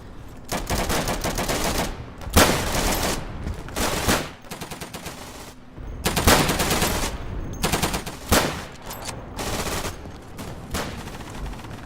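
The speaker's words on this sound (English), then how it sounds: "Could be random gunfire." Loud bursts of rapid automatic gunfire in the video game Day of Infamy, in repeated volleys with short pauses between them and a steady background rumble.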